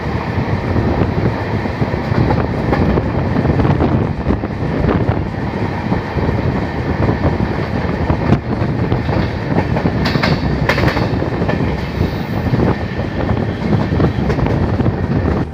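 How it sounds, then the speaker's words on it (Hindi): A train pulls out of Kurukshetra Junction railway station, its carriages rolling past close by with steady rumbling and clickety-clack wheel noise and some wind buffeting, loud and continuous throughout. "ये कुरुक्षेत्र जंक्शन, यहाँ से ट्रेन निकल रही है आपके सामने।"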